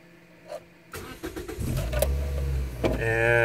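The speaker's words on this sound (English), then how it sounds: "so let's start the engine" A Scion xB cranks and starts after a fault code is cleared: clicks first, then a brief starter whir, and the engine catches into a steady idle, close and loud, with a chime near the end.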